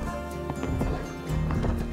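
Attila, a Przewalski's stud horse, moves nearby with clear hoof clip-clops in an uneven rhythm, a brief snort or whinny-like sound mixed in, over a steady low background hum, no talk.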